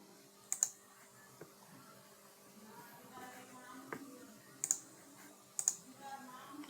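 Sharp computer mouse clicks sound on a desk during software setup, a few isolated taps spaced seconds apart over faint background noise.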